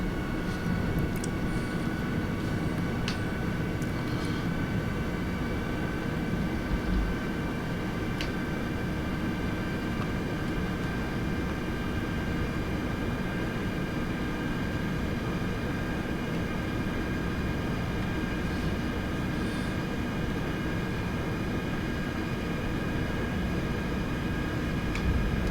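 Engines of a Tupolev Tu-104 airliner on approach in the FS2004 flight simulator make a steady, droning cockpit hum with a faint whine that holds throughout, with no talk.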